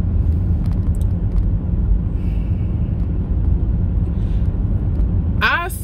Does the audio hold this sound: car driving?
yes